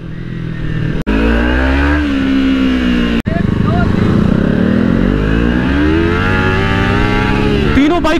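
Overheating KTM Duke 250 motorcycle riding through city traffic, its engine droning and rising in pitch as it accelerates, with two sharp breaks and other traffic nearby, and someone talking over it.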